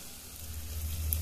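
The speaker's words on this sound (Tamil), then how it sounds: "இப்போ ஒவ்வொரு மூளையா வச்சிடுறேன்." Pieces of goat brain sizzle softly in a pan of sautéed masala with salt and spice powder, a low steady frying hiss that swells slightly toward the end, with no talking.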